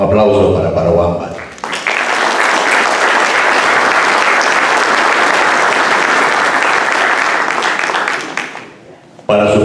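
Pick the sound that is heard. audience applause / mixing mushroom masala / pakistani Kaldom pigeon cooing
audience applause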